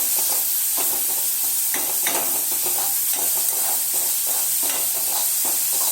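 Cut mushroom stems sauté with garlic in a pan over low heat, giving a constant close sizzle with intermittent scraping and stirring sounds and no talk.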